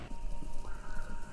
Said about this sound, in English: Sounds like horses? Horses running a race?